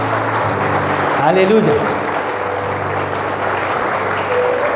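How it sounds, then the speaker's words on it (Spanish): Applause breaks out for the King at a lively church service, a broad crowd wash under continuous voices and a shouted hallelujah, with a sustained tone lingering beneath. "Denle un aplauso al Rey"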